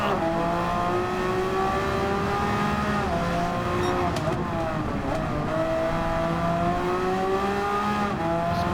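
A Subaru WRX Gr.B car racing in Gran Turismo 7: a steady, loud engine drone with rising and falling rev tones across the whole stretch, holding at speed with a brief shift-like dip midway.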